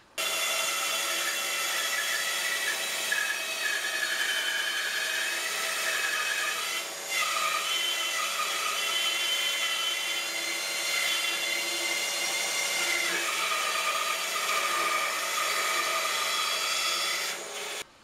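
A wooden turning block, cut from a log with a disc screwed onto it, is trimmed round, giving a steady, continuous abrasive cutting and rubbing noise with a brief dip midway and no talking.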